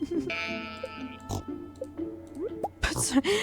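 Pig oinking on a farm in Stardew Valley, a few short game grunts scattered among chimes, plinks and other game effects, with a voice talking over parts of it.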